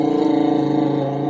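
A voice imitates a motorcycle engine with a brief, steady buzzing lip trill, close and fairly loud, held for just over a second.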